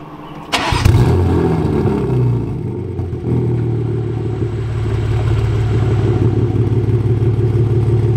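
BMW G82 M4 fitted with an Eisenmann twin-pipe race exhaust fires up with a sharp bark, then settles into a loud, steady, rumbling idle close by.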